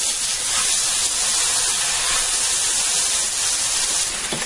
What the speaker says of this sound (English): I have a 3-pound roast beef here I'm going to put in here and sear on all sides and get that nice and browned